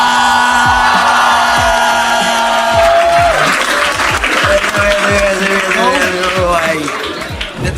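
A studio audience on a comedy panel show claps for the panelists, dense, close applause with sharp overlapping hand claps that builds after a host's raised voice and keeps going loud to the end.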